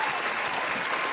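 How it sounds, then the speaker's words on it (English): Short, faint burst of applause from a small group, a brief soft patter of hands clapping heard at a distance. "Round of applause."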